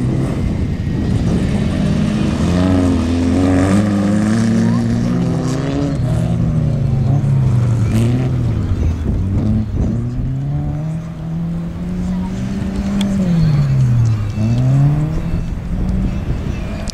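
A Datsun rally car at a rally stage, its engine revving hard with rising and falling pitch sweeps as it accelerates and shifts, loud and close throughout.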